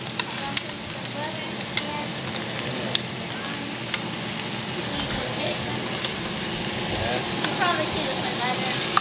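Steaks cook in a pan with melted butter, a loud, continuous close sizzle full of crackling spatters, with faint voices now and then.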